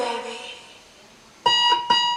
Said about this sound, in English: starts off with the alarm clock and someone saying good morning